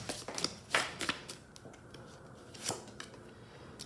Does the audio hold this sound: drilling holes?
no